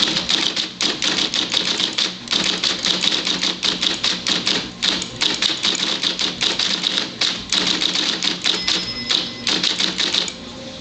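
An IBM Selectric Composer types out a line: rapid, tightly spaced mechanical keystrike clacks in a steady, busy rhythm, close and loud, with no talking.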